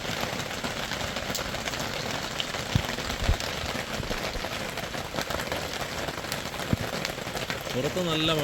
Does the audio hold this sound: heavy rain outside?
yes